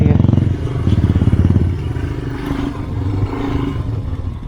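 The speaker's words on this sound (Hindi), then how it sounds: "बहुत ही ध्यान दे के बाइक चलानी पड़ रही है अभी बिकॉज एक गलती भारी पड़ सकती है।" An off-road motorcycle's engine throbs in rough, uneven pulses as it picks its way along a rocky mountain trail near Yusmarg. Clattering and scraping sounds come through along with the close, rumbling exhaust.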